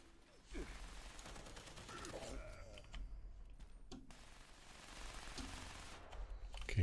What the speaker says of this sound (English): I can shoot around corners.